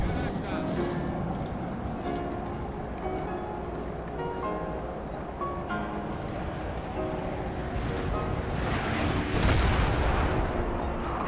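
Cannon artillery booming across a Napoleon: Total War battlefield, a dense continuous din of distant shots and impacts with a heavier burst near the end, under a voice.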